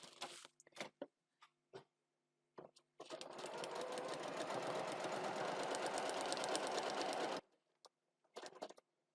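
A sewing machine stitches a foundation paper pieced heart in one steady, continuous run of several seconds, bracketed by short clicks and handling taps before and after.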